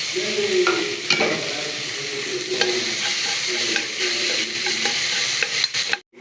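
Crushed ginger, garlic and tomato for a mushroom curry sizzle steadily in a hot pan, with the clink and scrape of a spoon stirring now and then, close up and without talking, ending in a brief drop-off.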